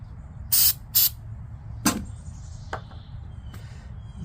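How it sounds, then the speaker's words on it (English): Anti-corrosion aerosol sprayed onto a stripped brake part from a Smart car during a brake cylinder replacement: two short hissing bursts close by, then a single brief spritz a moment later, over quiet garage background. "This is a corrosive spray."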